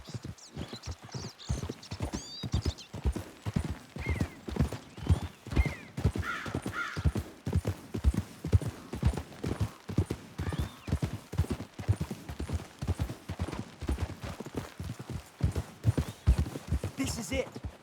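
Horses trotting in the video game Red Dead Redemption 2, a steady run of hoof clip-clops over a long stretch with occasional whinnies and crow calls, while people talk at times.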